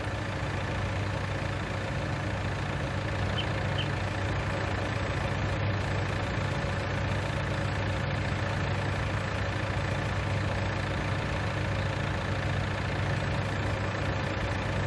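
Steady engine idle from farm machinery in Farming Simulator 19 on the USA map, a constant low rumble with broadband hum running alone and unchanged throughout, fairly loud and close.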